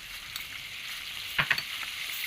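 Two spoons of coriander seeds frying in hot oil, a soft, steady sizzle with a few brief crackles and a utensil tap or two near the middle.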